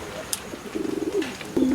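A racing pigeon that has just flown home coos in a short run of soft, rhythmic pulses, then gives a second brief coo, close by over faint background noise.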